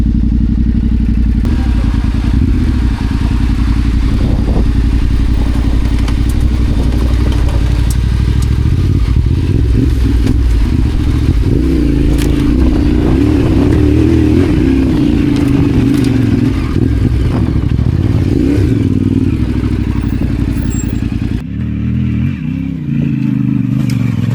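Adventure motorcycles ride an off-road enduro trail, their engines droning loudly and continuously close by, with revving swells and clattering, then cutting out near the end.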